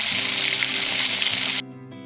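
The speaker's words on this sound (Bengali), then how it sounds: "যদি কড়া হিটে ভাজি তাহলে বাইরে কালার চলে আসবে ঠিকই ভাজা হয়ে যাবে কিন্তু ভিতরে থাকবে কাঁচা তাই কম হিটে ভাজতে হবে" Palm fruit fritters (taler bora) fry in oil over low heat, making a loud, steady, close hissing sizzle that cuts off abruptly near the end, leaving a faint hum.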